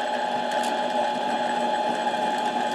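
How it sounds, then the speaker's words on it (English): A Harbor Freight mini lathe turns slowly while cutting an 11 hp Briggs & Stratton camshaft. It makes a steady, close mechanical whine with a faint grinding edge, unbroken for the whole stretch. "A little lathe like this, I just take her slow."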